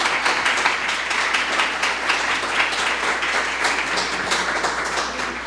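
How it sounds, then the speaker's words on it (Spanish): Audience applause at a gathering, a dense steady wash of many hands clapping that holds loud and even throughout with no talking. "un fuerte aplauso para ella"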